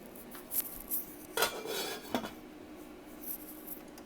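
Couscous being stirred in a pot, with a few light scrapes and clinks of a utensil against the metal, quiet and sparse with no talking.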